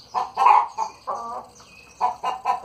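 Brooding hens cluck and cackle in short bursts while being moved, close and fairly loud, with brief pauses between the calls.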